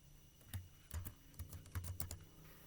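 Answers are typed on a computer keyboard for an online school exam, a quiet, close patter of irregular key presses with no voices.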